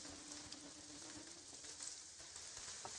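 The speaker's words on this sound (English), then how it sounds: "Are you enjoying this rain as much as I am, Tetra?" Steady rain in the fantasy game Morrowind, a faint continuous hiss of falling water with soft scattered patter and a low hum beneath, no voices.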